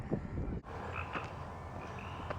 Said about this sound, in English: Here are the frogs.